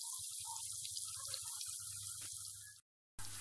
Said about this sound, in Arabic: وكديرو الماء.